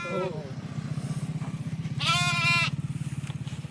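Sheep bleat loudly nearby, pregnant ewes among them, one long wavering bleat early and another in the middle, over a steady low engine-like rumble.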